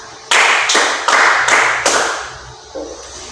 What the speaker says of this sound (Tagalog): bigyan siya ng 5 palakpak